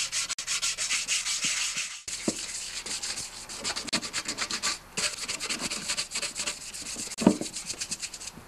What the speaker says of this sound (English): sand it down with some 200 grit sandpaper and then 400